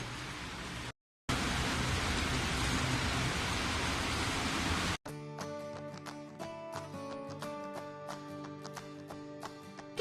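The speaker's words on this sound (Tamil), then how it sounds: "பாருங்க நல்ல மழை பெய்துட்டு இருக்குது" Steady heavy rain falling outdoors in Jaffna, a dense hiss that is cut off abruptly and then gives way to a rhythmic musical passage, with no talking.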